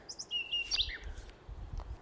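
Birds sing in the mountains in the morning, a few bright whistled chirps and a short trilling phrase standing out over faint background rustle, moderately close and clear.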